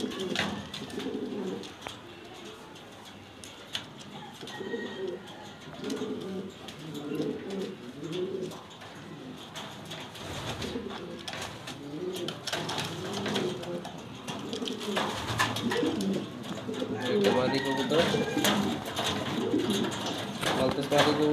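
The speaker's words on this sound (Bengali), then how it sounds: "ব্ল্যাক কালার মালতেজ মাদি কবুতর" A black female Maltese pigeon coos repeatedly in soft, low, rolling phrases up close, while a person talks over it throughout.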